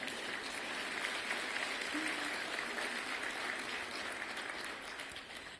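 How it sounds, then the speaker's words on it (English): Audience applause at a mayor's schools address in a large hall, steady, continuous and fairly distant, fading slightly at the end. "You can give yourselves a round of applause."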